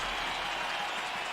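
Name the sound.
crowd applause in a video game arena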